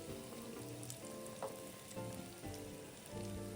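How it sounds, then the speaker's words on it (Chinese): Yam bean spring rolls filled with red fermented bean curd deep-fry two or three at a time in hot oil, giving a soft, continuous crackling sizzle with scattered pops and no voices. "再将南乳沙葛春卷生坯放入油炸，分次油炸，一次2至3条就好"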